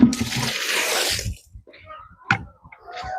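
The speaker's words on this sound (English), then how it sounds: "All right, so we'll dump out this water now." Water gushes and splashes out in one heavy pour lasting about a second, then a few clanks and small handling sounds follow.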